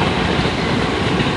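A train rumbles past a level crossing near Tsu Station in Mie, Japan, a loud, close, continuous roar of wheels and cars with no voices over it.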